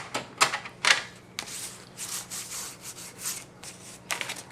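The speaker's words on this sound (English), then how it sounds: "you might want to take a bone folder" A bone folder is pressed and rubbed along the score lines of a card pizza-box envelope, making short dry scraping strokes in irregular bursts, close and fairly quiet, with no voices.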